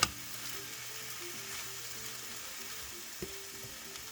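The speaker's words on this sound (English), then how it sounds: "Let that simmer for just a minute." Ground turkey simmers in a dry pan with a steady, soft sizzle, plus faint clinks and a light knock from a utensil, with no voices.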